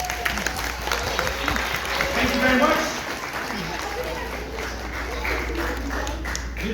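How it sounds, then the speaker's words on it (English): Audience applause at a magic show, a steady wash of clapping from a crowd lasting several seconds, with a performer speaking briefly over it. "Everybody give Ariana a big round of applause."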